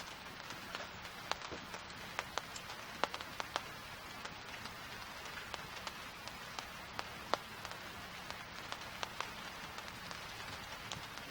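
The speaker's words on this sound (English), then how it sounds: "It's like an all-day rain." Steady all-day rain falling over a campground on a late-October day: a soft, continuous wash of hiss dotted with sharp, scattered drips and patters, fairly faint and even throughout, with no voices.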